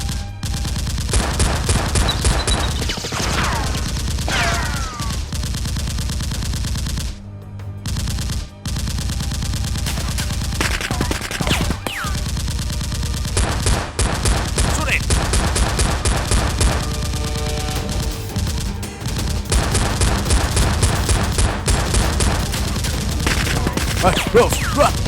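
Toy foam-dart blasters fire in repeated bursts during an outdoor Nerf war with camouflage-clad teams, the rapid snapping shots continuous and loud, with shouting voices mixed in.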